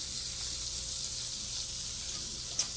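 Strawberry and Oreo pancakes frying in a pan, giving off a steady, even sizzle that hisses on without a break, with a tiny click near the end.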